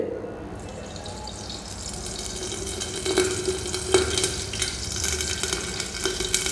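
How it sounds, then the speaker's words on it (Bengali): Oil sizzles steadily in a tea kettle used as a pot, a continuous crackling hiss with occasional louder stirring clinks, close and fairly loud. "তেল দিয়েছি তেলটা কেমন আওয়াজ হচ্ছে দেখতে পাচ্ছেন"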